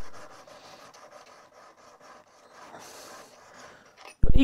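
The back of a shears blade is honed on a sharpening stone, a soft, close rhythmic rubbing and rasping in repeated strokes, ending with a sudden loud knock.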